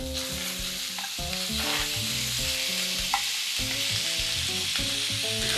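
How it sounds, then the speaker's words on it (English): Bacon sizzles steadily in a hot frying pan, a dense crackling hiss running throughout, with clattering stirring strokes against the pan layered over it up close; no voices. "let's put the bacon in the pan and wait for the fat to render"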